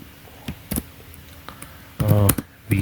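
A few scattered clicks on a computer keyboard as a terminal command is typed, some keystrokes sharp and close, with a brief spoken voice in the middle.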